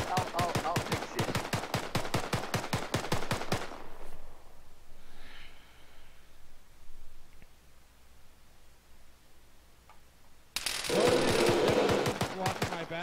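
Rapid bursts of video game gunfire, a dense run of sharp shots for about four seconds, then a quiet stretch before a second loud volley erupts near the end.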